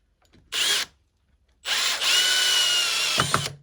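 A power drill drives long screws into the back arm of a recycled poly dockside ski and board rack, with a short whirring burst followed by a longer sustained run that winds down. The sound is close and loud.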